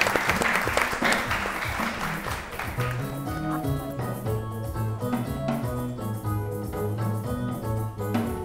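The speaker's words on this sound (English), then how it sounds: "Please clap for them." Guests at an anniversary event clap loudly for the first few seconds. Loud music with a strong bassline and a steady beat then takes over and keeps playing.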